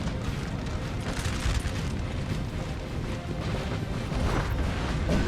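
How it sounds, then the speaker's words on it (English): Artillery fire in Napoleon: Total War strikes a pair of infantry units, heard as a dense, rumbling wash of distant booms and crackling impacts rolling on steadily without a break. "The artillery just struck these two."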